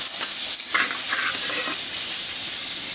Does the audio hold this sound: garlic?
yes